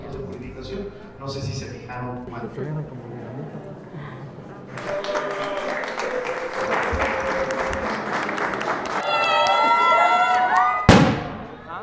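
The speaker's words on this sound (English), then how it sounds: "Tio's playing with fireworks" Fireworks crackle and pop at a Mexican wedding outside a church, a fast scatter of sharp bursts that builds toward a louder bang near the end, with a crowd and voices around.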